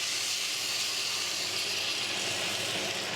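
Loud, steady hissing and sizzling as water is added to a hot pan of curry with spice mix and tomato puree, continuing without a break and with no voices.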